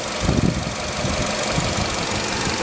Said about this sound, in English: Again, this vehicle is actually running right now.